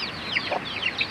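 Young two-week-old chickens, a crossbreed of broiler and Bangkok fowl, cluck and chirp in quick repeated calls close by over faint background noise.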